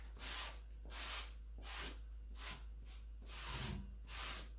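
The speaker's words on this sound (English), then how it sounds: "Sanding this paint in, try to get it into the fabric." Paint being sanded into fabric, a series of about six rhythmic rasping strokes of steady, close scrubbing with brief pauses between them, alone and fairly quiet.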